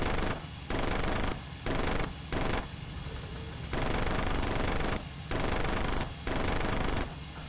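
Aircraft machine guns firing in IL-2 Cliffs of Dover during a dogfight with a Hurricane, several long rattling bursts separated by short pauses over steady engine drone.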